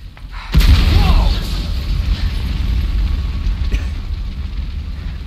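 A loud explosion in the video game Resident Evil 2 Remake, a sudden booming blast followed by a long rumbling roar that slowly settles.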